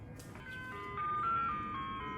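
An ice cream truck plays its tinkling jingle somewhere down the street, a short stepwise melody of bright sustained notes that swells a little, heard at moderate distance over a low background rumble.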